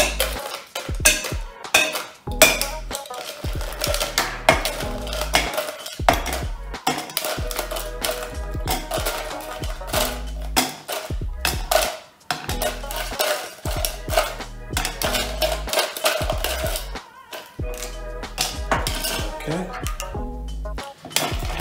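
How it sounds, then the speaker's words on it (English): A bourbon Old Fashioned with orange bitters stirred over ice in a mixing glass, the spoon setting off a dense, continuous rattle of clinking cubes against glass, fairly loud and close, with brief pauses in the rhythm. "We're gonna stir our drink for 17 to 20 seconds."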